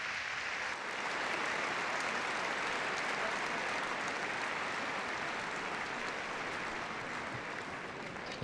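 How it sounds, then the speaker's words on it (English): Sustained applause from the audience at the Crufts 2013 dog show working group judging, a dense steady clapping from a large indoor crowd lasting throughout at even loudness. "A very appreciative crowd here, enjoying that."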